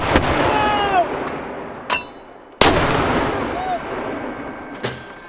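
Sharp, loud gunshot cracks ring out during live-fire military training on a range. A few single shots come with long echoing decays, close by, and shouted commands are heard between them.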